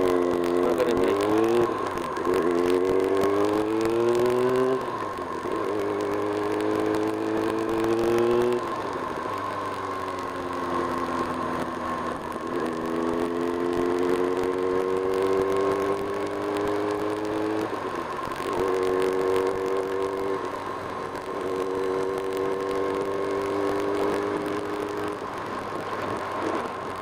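A Kawasaki Ninja ZX6R 600 motorcycle ridden in heavy rain, its engine droning and repeatedly climbing through the revs with gear changes, steady and close under constant wind and road noise.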